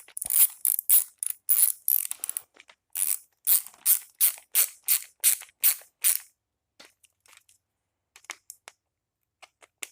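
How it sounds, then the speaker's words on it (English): A quarter-inch ratchet clicks in quick bursts of strokes while small carburetor parts on a Craftsman 550 PSI pressure washer are tightened, close and crisp, then trails off into a few sparse, faint clicks near the end. "I'm only using 1/4-inch ratchets."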